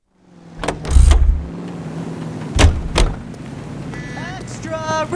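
A car in the video game L.A. Noire starts off with two heavy door-like thuds over a low engine rumble, then a steady hum with a voice speaking briefly near the end.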